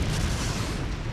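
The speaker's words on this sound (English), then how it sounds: "the Holy Cross Church blew up at exactly 7:35 p.m." A church in a small Midwestern town blowing up: a sustained, loud low rumbling blast with dense broadband roar, filling the short span with no pause and no voices.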